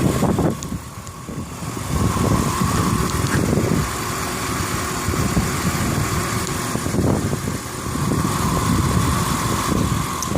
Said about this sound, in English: Right now it's idling